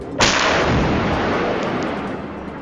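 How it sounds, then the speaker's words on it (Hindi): Explosion at night over the town of Sirsa, reportedly from a missile attack: one sharp, loud distant blast followed by a long rumbling, echoing decay, with no voices. "सिरसा शहर में लोगों को धमाकों की आवाज सुनाई दी।"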